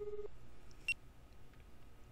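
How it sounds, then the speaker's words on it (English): Faint electronic phone tones from a visual novel: a short repeated beep sequence followed by a single higher blip over a quiet background, with no talking. "took out his cell phone and made a quick call"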